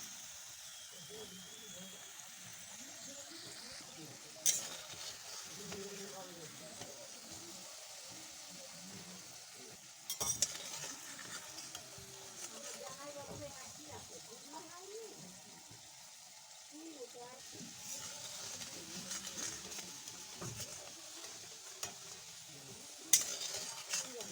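Potatoes frying in a pan for a pabda fish dish, a soft continuous sizzle with occasional stirring clatters and a few sharp knocks, while a person talks over the cooking.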